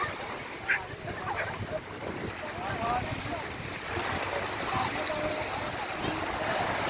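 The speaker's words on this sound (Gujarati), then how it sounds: "આ સોમનાથનો ભૂગવતો દરિયો છે" Roaring sea waves break on the shore at Somnath beach in a steady wash of surf, with wind buffeting the microphone throughout.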